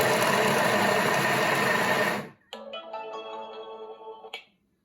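Kitchen mixer chopping lamb korma ingredients on speed 5 for about three seconds, a loud dense whirring buzz that cuts off abruptly, followed by a lower motor hum with faint clicks as it winds down.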